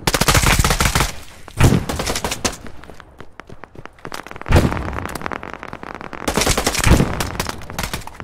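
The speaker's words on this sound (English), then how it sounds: "This fucking AS Val is nasty." Loud bursts of AS Val rifle fire in a trench-fighting video game, several rapid volleys spaced a few seconds apart with chaotic battle noise between them, no talk.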